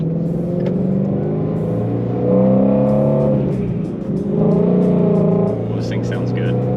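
Supercharged Shelby GT350 with a Coyote V8 revving and droning under load, engine rising in two surges while a driver talks over it inside the cabin.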